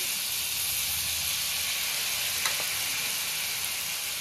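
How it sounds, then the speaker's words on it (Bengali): Gram flour crisps fry in hot oil, giving a bright, even sizzling hiss that holds steady throughout with a faint stir or clink midway, close up and without talk. "এটা ভাজতে ভাজতে তোমাদের দেখাই, বেশ অনেকটাই আমার ভাজা হয়ে গেছে বেসনের মুড়মুড়ে"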